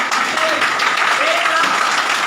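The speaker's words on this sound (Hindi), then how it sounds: "एक बार ताली जाके दिखाओ" Applause from an audience in a hall during a network marketing talk: a steady wash of clapping that fills the whole clip at high volume, with no talking over it.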